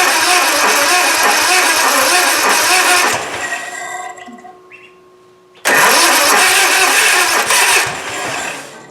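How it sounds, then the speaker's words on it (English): A Cub Cadet zero-turn mower with a recently repaired starter solenoid cranks loudly for about three seconds, pauses briefly, then cranks again in a steady chugging rhythm, close to the engine. "I'll crank it"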